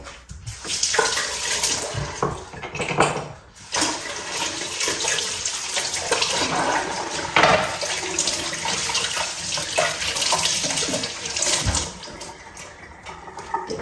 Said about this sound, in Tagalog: maghugas muna tayo ng kamay.